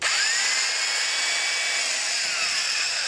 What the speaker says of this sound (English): here'd be what this drill would sound like on 80 volts